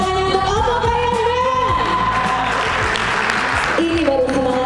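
An audience at a corporate dinner gathering claps steadily and densely throughout, while a voice speaks over the applause in a reverberant hall.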